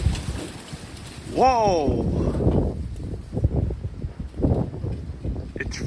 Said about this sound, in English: It's freezing out here and it's windy.